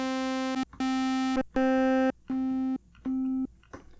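Five bursts of steady buzzy Roland JD-XA synthesizer tone on one pitch, each a different oscillator wave shape, roughly half a second long with short gaps.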